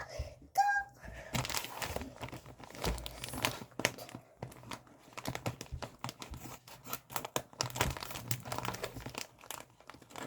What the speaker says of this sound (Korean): 가위로 오려볼게요.